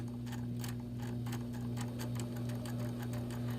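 A sewing machine winds thread onto its bobbin, a steady close mechanical whir with a low hum and a rapid, regular ticking that runs unbroken throughout.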